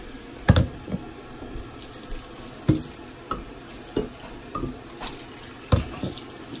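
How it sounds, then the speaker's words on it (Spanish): Tap water runs into a blender of ground chiles for a seafood soup, with an intermittent splashing flow broken by sharp knocks and clunks, all close by and without talking. "Le voy a echar un poquito de agua."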